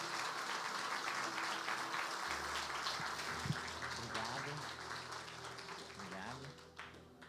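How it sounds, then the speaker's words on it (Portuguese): Church congregation applauding during a communion service, a sustained wash of clapping from many people with a voice talking over it. "Uma salva de palmas para Jesus pela vida deles."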